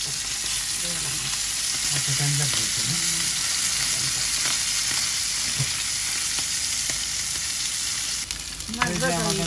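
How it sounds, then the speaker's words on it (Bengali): Pangas fish sizzles and crackles steadily in a hot pan of oil throughout, close and continuous, with a few soft stirring scrapes and a brief clatter near the end. "মাছ ভাজা হয়ে গেছে"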